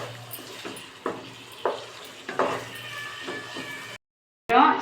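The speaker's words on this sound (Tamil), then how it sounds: "இன்னும் ஒரு 5 நிமிஷத்துக்கு நல்லா இதோட சேர்ந்து கலரி விடலாம்" Mutton stirred with masala in a pot for seeraga samba mutton biryani, giving a few soft scraping clunks of the spoon against the pot over a steady low hum, then a brief silence and a louder burst of stirring.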